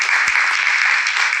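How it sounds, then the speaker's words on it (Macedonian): A game-show studio audience bursts into loud, dense applause, a continuous wash of many hands clapping that holds steady for the whole stretch. "аплауз."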